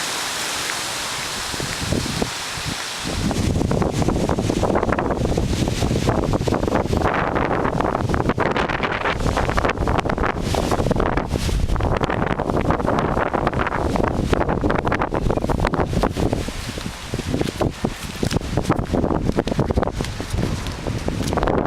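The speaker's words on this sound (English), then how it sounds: "The trick with this is we have trade winds blowing that way." Tropical trade winds blow outdoors, roaring over the microphone in a loud, steady broadband rush that starts after a brief quieter opening and keeps surging in gusts, with no talking.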